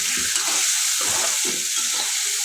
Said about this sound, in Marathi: आता यात वांगी घालू मिनटं वांगी चांगली तेलावर भाजून घ्यायचे आहेत